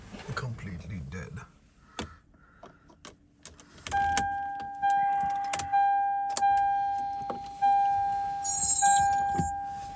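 A Lexus LX470 with a battery that had been fully dead gets started: key and dashboard chimes and clicks, then a brief crank and the engine catching, with a repeating electronic warning tone pulsing over the idle.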